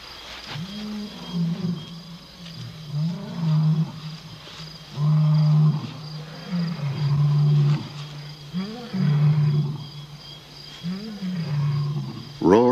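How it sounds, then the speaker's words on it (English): Male lions roaring at night on the African savanna, a series of deep, rhythmic roaring bouts and grunts repeating every second or two, loud and fairly close, with no speech. "roars in the night can mean danger for the pride"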